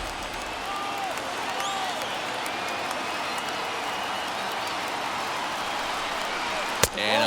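A large stadium crowd rises and cheers in the MLB The Show 21 baseball game, Yankees against Braves, as a steady roar throughout, with a sharp knock close to the end.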